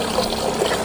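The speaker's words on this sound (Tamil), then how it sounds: "தண்ணி ஊற்றாய்" Water is poured into a cup of foxtail millet in a village kitchen, a brief, close trickling splash of liquid with no voices.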